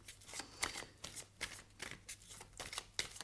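Tarot cards being shuffled by hand, a rapid series of soft, crisp riffling bursts in an irregular rhythm, close and fairly quiet with no talking.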